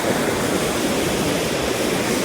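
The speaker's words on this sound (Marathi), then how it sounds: "पाण्याचा आवाज" River water rushing beneath a wooden bridge in Manali, a steady, dense wash of noise with no breaks, close and loud throughout.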